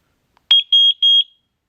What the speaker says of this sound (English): And it just beeped